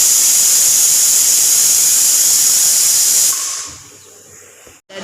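Tadka tempering for veg biryani sizzles with rising steam, giving a loud, steady hiss that cuts off abruptly after about three seconds, leaving quiet with a few faint clatters.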